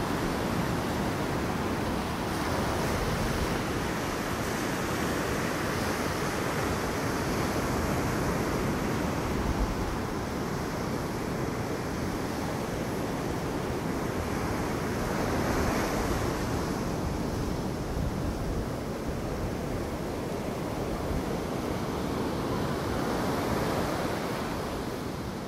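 Ocean waves wash and break continuously onto a Gulf beach at Delnor-Wiggins, a broad roaring hiss that swells and fades, with wind buffeting the microphone.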